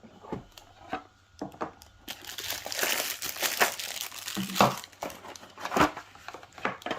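Packaging for a VGR V008 hair trimmer crinkles and rustles as it is opened, with quiet taps at first, then a steady stretch of close, loud plastic and paper crinkling with sharp crackles.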